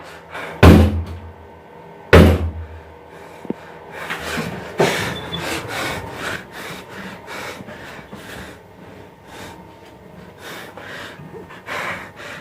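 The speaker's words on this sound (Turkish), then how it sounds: "me están golpeando la puerta y no puedo salir" Knocking on a bathroom door in a country house: two loud heavy thumps early on, then a softer knock, followed by quieter rustling and shuffling movement, with no talking.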